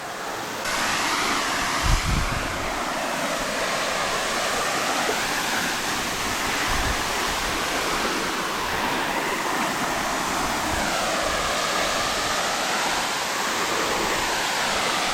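A hidden waterfall in Australia roars steadily with dense rushing water, loud and close, with wind buffeting the microphone and no talk.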